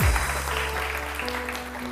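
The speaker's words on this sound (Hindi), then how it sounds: "इनके लिए बहुत सारी तालियां" Studio audience on a televised morning talk show applauding briefly, a dense, steady patter of clapping throughout.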